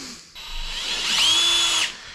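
A power drill with a smaller bit boring into a part clamped in a vise for mounting a transmission cooler, with a loud, close high-pitched whine that rises as the bit bites, then cuts off abruptly.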